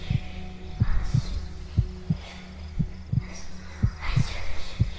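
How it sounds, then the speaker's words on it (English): A slow, steady thumping heartbeat in the DayZ video game, signalling a giant bear nearby, pulses in paired beats over a low droning hum, about a dozen muffled thuds in a few seconds. "This guy is the source of the heartbeat sounds"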